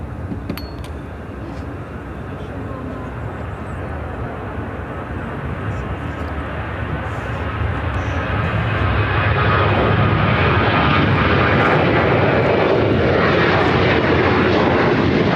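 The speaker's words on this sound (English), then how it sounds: "5380 taking off to Cedar Rapids on the CRJ 200 LR." A CRJ-200 regional jet on its takeoff roll at Chicago O'Hare, its engine roar building steadily from a moderate rumble to a loud, sustained broadband thrust.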